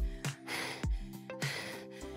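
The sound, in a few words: heavy breathing after a workout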